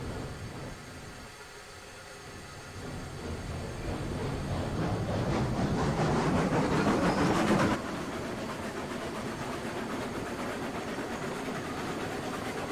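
Steam locomotive running at full reverser and throttle in the railroad game Railroads Online, a steady rushing rumble with faint rail clatter that swells louder midway, then drops back to an even drone.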